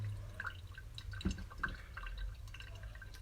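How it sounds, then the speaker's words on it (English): Soft, sparse drips of water trickling through coffee grounds, quiet and close, with faint room noise behind. "And we see some water flowing through."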